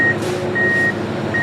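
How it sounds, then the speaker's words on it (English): Reversing beeps from a construction truck repeat as steady evenly spaced tones over the low rumble of the truck's engine, with no talk. "The children would hear the beeping of the trucks going back and forth."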